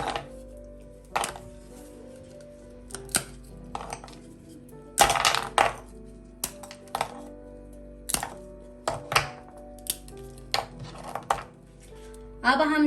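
A slab of set Iranian gachak pistachio candy is snapped and broken apart, giving a series of sharp, brittle cracks and clacks against a plate or tray, spaced irregularly over several seconds with quiet between.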